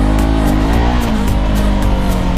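A Yamaha R6 motorcycle with a stock exhaust runs loud and close, a steady harmonic engine drone whose pitch dips slightly then holds, with no talk.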